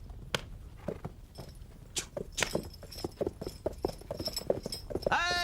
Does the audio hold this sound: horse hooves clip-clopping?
yes